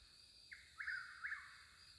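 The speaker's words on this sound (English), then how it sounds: "I don't know what kind of birds those are." Birds calling along a forest hiking trail, three short chirping calls in quick succession at moderate distance over a quiet background.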